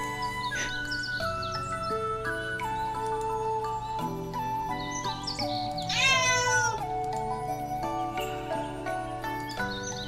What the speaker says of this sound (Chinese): 淡香子喵喵叫